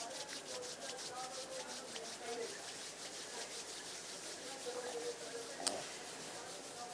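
Palms of the hands rub together at chest level in a quiet meditation setting, a soft repeated swishing friction in steady strokes, faint and close, with a brief sharp click near the end.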